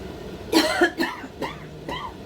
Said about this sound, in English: Goodness me, horrible cough.